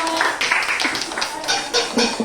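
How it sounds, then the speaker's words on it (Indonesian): A group claps hands together during an orientation guidance session, a busy patter of claps at moderate volume with voices mixed in. "tepuk tangan dulu dong"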